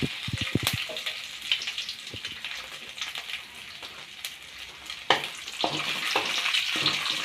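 Urad dal tempering crackles in hot oil, with a soft bed of sizzle broken by sharp pops and spits scattered irregularly across the stretch, some louder bursts near the end.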